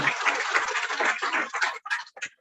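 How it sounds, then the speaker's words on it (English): Short burst of audience applause for an architect at an alumni meet, fairly close and brisk, thinning into a few scattered claps before fading out. "let us give a big hand of applause to him"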